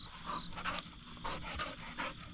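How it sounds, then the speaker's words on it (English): A dog pants close by in quick, rhythmic breathy bursts that repeat steadily, with no talking over it. "Oh my gosh, look at the dog."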